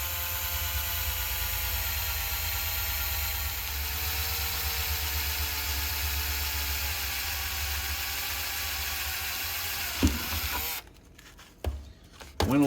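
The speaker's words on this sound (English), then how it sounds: "we'll just set the drill" A power drill bores through wood, whirring steadily at close range for about ten seconds, then stops abruptly, followed by a few clunks and handling noises.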